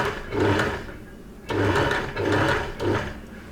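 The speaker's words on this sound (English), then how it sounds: "I can start sewing around the pocket about 1 millimetre in." A domestic sewing machine stitches around a shirt pocket in three or four short bursts of steady whirring, each separated by brief pauses, close and clear with no talking.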